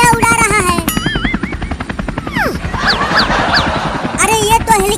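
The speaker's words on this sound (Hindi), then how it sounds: "अरे ये तो हेलीकॉप्टर को उल्टा उड़ाने लगा।" A helicopter whirs loudly in a comic scene, a steady droning rotor noise mixed with swooping, whistling effects and excited vocal sounds throughout.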